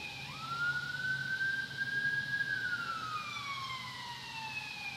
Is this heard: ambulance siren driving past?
yes